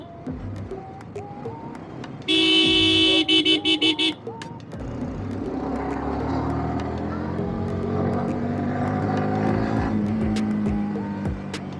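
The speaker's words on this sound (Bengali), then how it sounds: "প্রচণ্ড রাস্তা জ্যাম ভাই।" A heavy traffic jam on a road near a village fair: one long, loud car horn blares for about two seconds, then a dense rumble of idling and creeping engines continues underneath.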